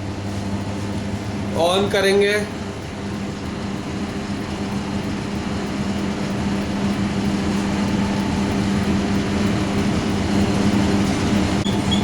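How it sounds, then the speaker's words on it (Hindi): A common rail diesel injector test bench runs with a steady mechanical hum and whir at an even level, with a brief rising electronic chirp near the start. "उसके बाद हम अपनी टेस्ट बेंच को ऑन करेंगे।"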